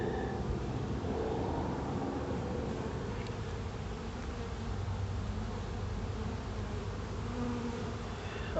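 A swarm of bees at the site of a bee truck crash in Hugo, Oklahoma, buzzing loudly and steadily for the whole stretch, dense and close, with no voices.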